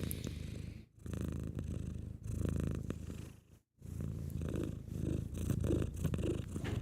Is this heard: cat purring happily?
yes